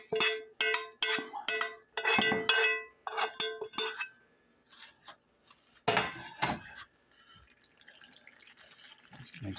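A metal utensil scrapes black beans, corn, sautéed onions and ground beef into a pot for Southern-style mac and cheese, making quick bursts of bright, ringing clinks and scrapes up close, then fainter scattered taps, with no voices.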